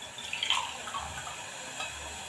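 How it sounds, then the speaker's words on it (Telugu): Water from a glass is poured into a cooking pan for wheat rava upma, a soft, fairly faint splashing trickle that swells briefly near the start and then settles. "ఒక 3/4 గ్లాస్ నీళ్ళు వేస్తున్నాను"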